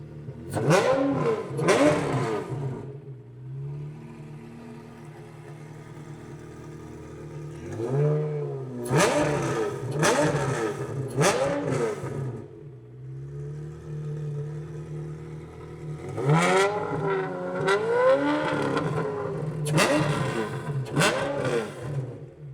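A DeLorean's swapped-in Ferrari California V8 barks to life and revs hard in repeated bursts, settling into a loud, lumpy idle between the throttle blips.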